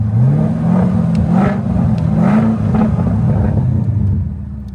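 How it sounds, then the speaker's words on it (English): A 2021 Chevrolet Camaro SS V8 with a loud exhaust starts up and revs at an auto auction, a deep steady rumble with rising and falling revs, close and loud, with no talking. "Come on, let me start it up. Oh yeah, that exhaust is a lot louder."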